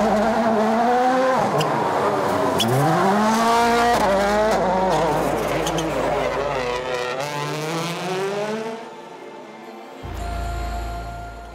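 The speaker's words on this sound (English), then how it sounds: "this time we had world rally cars." World rally cars racing on the Acropolis Rally stages in Greece, engines rising and falling in loud revving sweeps as they pass, with a sharp change to a different, rougher engine note near the end.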